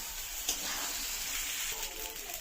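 Soaked broken wheat (dalia) sizzling in a pan for Bengali khichuri, a steady bright frying hiss with a sharp scrape of the spatula at one point, no voices.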